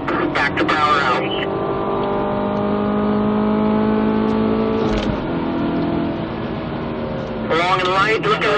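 Stock 2017 Chevrolet Camaro Turbo 2LT lapping Spring Mountain Motorsports Ranch, engine droning steadily under acceleration with a brief shift dip, as a driving instructor talks over it at the start and end.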